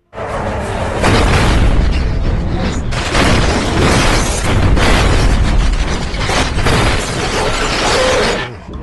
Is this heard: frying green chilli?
no